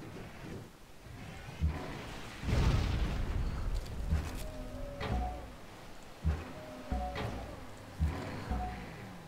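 Artillery bombardment in Civilization V, with several booming explosions and rumbling impacts arriving in separate bursts, the heaviest a sustained blast near the start and sharper thuds spaced through the rest.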